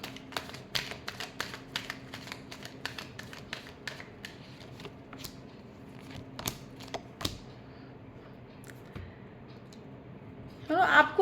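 A deck of tarot cards is shuffled close up as a rapid run of crisp card clicks and riffles, thinning out toward the end, with a brief louder rustle at the finish.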